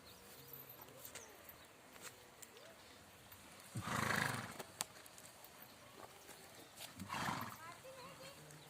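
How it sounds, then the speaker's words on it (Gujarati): A horse, kept with a mare at a farm, gives two loud, whinnying neighs a few seconds apart over faint background noise, with soft shuffling and stepping between them. "આમ ઘોડો છે તમે જોઈ ગયા"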